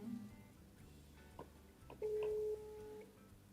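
A telephone call rings out while waiting for someone to answer, a steady ringback tone sounding faintly and alone, preceded by a few soft clicks.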